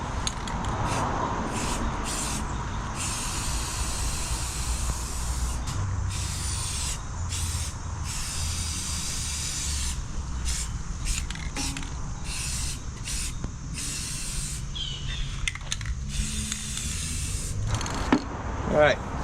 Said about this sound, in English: I'm getting ready to painting it